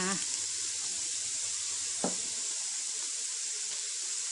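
Frogs sizzle loudly as they are stir-fried with holy basil, fish sauce, soy sauce and sugar in a rustic countryside kitchen, a steady hiss that fills the whole clip with one clear scrape of the spatula partway through.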